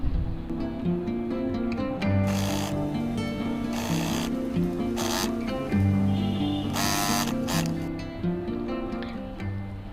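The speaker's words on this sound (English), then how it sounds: "So I'll be machine stitching the lining." A sewing machine runs a straight stitch along a laptop sleeve lining, sounding as a continuous close mechanical whir in several bursts with short pauses between them.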